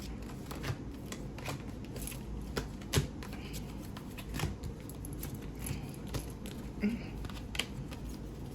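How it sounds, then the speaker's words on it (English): Oracle cards are shuffled and fumbled by hand in a quiet room, giving soft, irregular riffling and light tapping that carry on steadily throughout, fairly close and faint. "I'm over here fumbling the cards."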